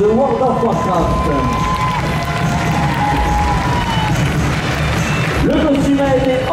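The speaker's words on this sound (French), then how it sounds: "je vais vous demander d'applaudir Zegoro Cosplay" Audience applause and cheering for a cosplayer at a French costume and cosplay contest, a dense steady roar of clapping and shouts from a large crowd, with a voice speaking over it at points.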